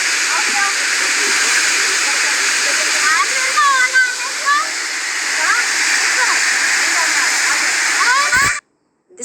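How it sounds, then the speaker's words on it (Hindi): Harkot waterfall in Munsiyari, a steady loud roar of falling water with hissing spray that runs unbroken for about eight and a half seconds, then cuts to near silence, with birdsong chirping faintly over the rush. "मुनस्यारी आए तो इस वाले वाटरफॉल को देखना मत भूलिएगा"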